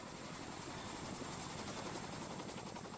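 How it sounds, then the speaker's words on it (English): Low-flying helicopter over the Lake of the Ozarks, a continuous loud rotor chop and broad roar filling the whole stretch without talk. "jumping into the lake of the Ozarks from a low-flying helicopter"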